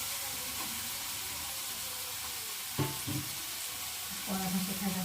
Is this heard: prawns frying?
yes